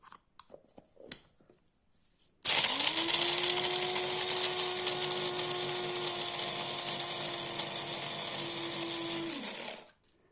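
An electric grinder grinds cucumber seeds and hazelnuts for gluten-free snacks. After a couple of quiet seconds it starts with a steady, loud, high motor whine that lasts about seven seconds, then stops.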